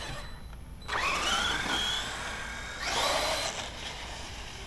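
A radio-controlled car drives off with a sudden high-pitched electric motor whine that rises and falls in pitch as it accelerates, fades briefly, then surges again, fairly close and loud with no talking.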